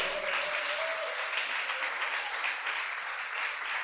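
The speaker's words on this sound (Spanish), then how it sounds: "Aplauda la gloria de Dios." A church congregation applauds together, a steady, full roar of clapping that holds evenly throughout, with a faint voice briefly audible beneath it.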